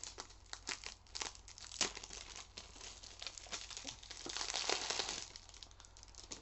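Plastic wrap is peeled off a PS Vita game box, Maldita Castilla EX limited edition, with close, quiet, continuous crinkling and sharp crackles throughout.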